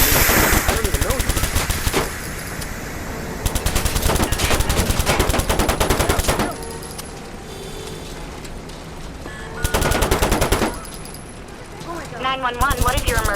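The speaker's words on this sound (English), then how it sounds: "Somebody's shooting!" Bursts of rapid automatic gunfire from the Watch Dogs video game, loud repeated volleys separated by short pauses, mixed with game voices talking.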